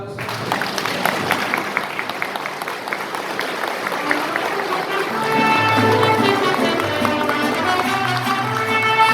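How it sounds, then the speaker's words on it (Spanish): Dense clapping from a church congregation during a Mass carries through the whole stretch, with music swelling in the background as it goes on. "Damos un fuerte aplauso."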